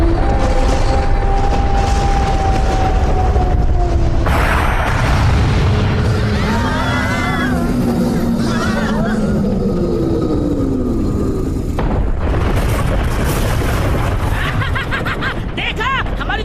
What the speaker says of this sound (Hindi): देखा हमारी तेज आवाज वाली तोप की ताकत को।